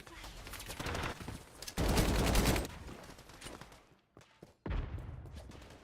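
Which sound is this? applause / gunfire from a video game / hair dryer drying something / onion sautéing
gunfire from a video game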